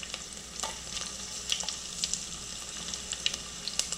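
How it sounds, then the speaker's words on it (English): Garlic cloves sautéing in hot oil with cumin and mustard seeds, making a faint, even sizzle with intermittent spoon scrapes and small pops. "Just give a quick saute."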